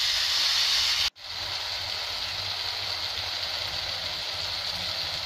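Tomatoes frying in a pan for South Indian tomato rice give a steady, close broadband hiss that cuts out for a split second and then carries on evenly.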